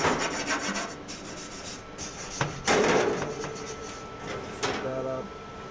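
Smoker grill grates are scrubbed clean with repeated rough rasping strokes, close and fairly loud, broken by a few metallic knocks and scrapes.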